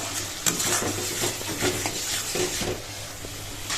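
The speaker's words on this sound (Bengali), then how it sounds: "তো চলে এখন আমি এটা ভালো করে কষিয়ে নিই" Spice paste with yogurt is stir-fried over a very low flame. A steady close sizzle carries rhythmic spatula scrapes and clinks against the pan.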